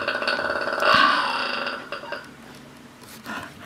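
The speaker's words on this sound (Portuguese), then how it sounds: "É um porco arrotando." A pig lets out a loud, drawn-out burp about a second in, followed by softer grunting noises, heard close with no talking.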